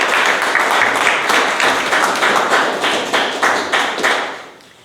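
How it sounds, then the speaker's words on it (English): A crowd applauds to welcome a speaker at a Toastmasters meeting, with sustained rhythmic clapping throughout that fades out at the end, loud and close. "with a huge round of applause, please welcome Toastmaster Bakul Joshi."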